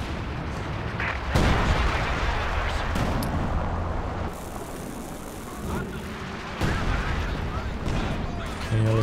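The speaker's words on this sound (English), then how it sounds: "Big double Zish barrage, got some mortar hits coming in as well on these Grenadiers." Mortar and artillery barrage in Company of Heroes 2 striking Grenadiers: a dense, continuous rumble of heavy blasts and impacts with sharp explosive bursts throughout.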